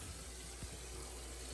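Water runs steadily from a kitchen sink faucet during a home inspection in Steamboat Springs, Colorado, a constant faint hiss with no one talking.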